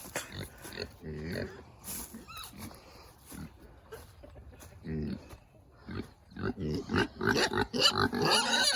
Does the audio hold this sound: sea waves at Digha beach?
no